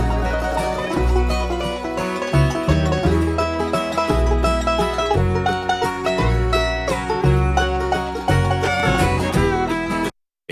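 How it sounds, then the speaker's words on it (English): A banjo solo plays loud and forward within a full bluegrass band mix, with busy picked notes over steady bass and rhythm and no voices. "So I did the solo for the banjo gets pretty loud."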